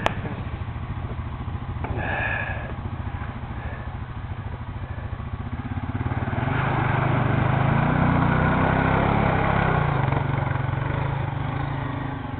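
A quad bike engine strains through a tough dig on an off-road trail, a steady low motor drone that swells louder and rougher midway as it powers up and out, with no talk over it.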